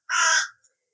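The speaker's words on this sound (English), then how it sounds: "Yes, we have crows and everything" A single loud, harsh crow caw from just outside a garden polytunnel, short and close, followed by silence.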